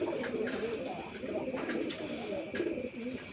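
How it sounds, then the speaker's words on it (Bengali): Rajgolla pigeons coo in soft, repeated throaty phrases close by, a steady pulsing call rising and falling over a quiet background, with no talk. "বন্ধুরা এখানে আরেক জোড়া রাজগোল্লা কবুতর আছে"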